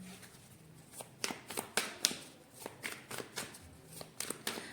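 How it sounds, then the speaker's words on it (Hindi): Tarot cards being shuffled by hand, a run of quick soft riffling flutters and taps in uneven bursts, close and quiet, with no voice over them. "एक सेकेंड में थोड़ा सा और शफल करती हूँ"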